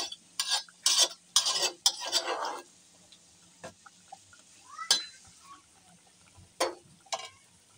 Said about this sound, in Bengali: সাতকরাগুলো দেওয়ার পর একটু নেড়ে চেড়ে দিচ্ছি, যাতে করে সাতকরাগুলো সিদ্ধ হয়ে যায়